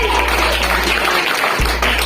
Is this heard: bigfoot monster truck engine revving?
no